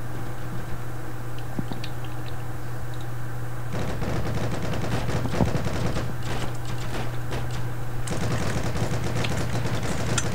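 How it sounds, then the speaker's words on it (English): Gunfire in the World War II shooter game Heroes and Generals: a steady engine-like hum underlies bursts of rapid automatic shots that start sparse, then erupt into dense, loud volleys mid-clip, with scattered crackling in between. "Oh, I just got shot at."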